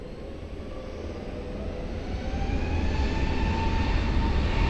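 Jet airliner rolling down runway 20 for takeoff at Lisbon Airport, a broad roaring engine noise that swells steadily louder over a few seconds from a moderate distance.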